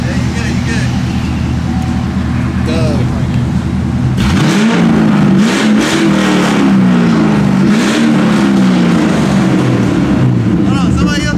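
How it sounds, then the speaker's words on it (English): A car engine revving at a car meet, idling loudly before rising into several long, swelling revs close by, with voices talking over it. "I think somebody else revving it"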